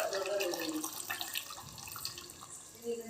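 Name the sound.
water poured into a pan of curry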